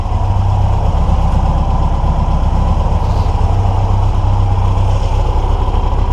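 A Volkswagen engine with freshly cleaned carburetors idles steadily close by, a loud, continuous low rumble with an even throb and no voices over it.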